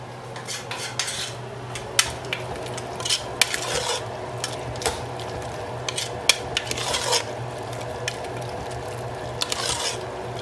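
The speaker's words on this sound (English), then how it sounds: "So once we add them, we can just mix them." A metal spoon stirs rice and vegetables mixed with chili powder and masala in a pot for vegetable biryani, giving close, irregular clinks and scrapes against the vessel with no voices.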